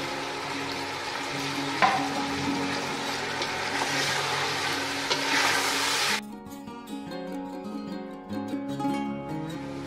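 Tomatoes and green chilies fry loudly in a chicken aloo curry with a busy, crackling sizzle for about six seconds, then the sizzle drops away into quieter, scattered clinks and tones.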